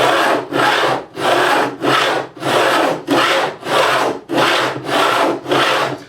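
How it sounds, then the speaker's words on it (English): Fret edges on a 1964 Rickenbacker 330 guitar are bevelled with a hand tool, giving about eight loud, steady rasping strokes in an even back-and-forth rhythm, close up with no talking. "This takes all the hard work out of beveling the edges"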